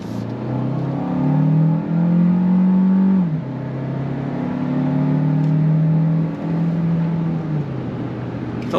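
A 2025 Kia Carnival Hybrid minivan accelerating on throttle, heard from inside the cabin as a loud droning engine whose pitch climbs through gear changes, with a brief drop around the middle.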